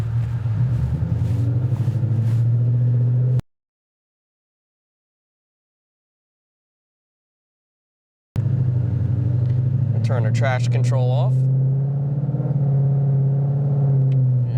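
2018 Mustang GT with a Whipple supercharger accelerating hard on the street, a loud, deep engine roar that climbs through revs, breaks off into silence for several seconds, then returns and holds strong, with someone speaking over it.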